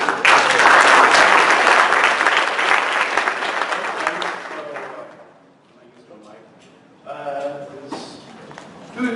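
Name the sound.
audience applause at a presentation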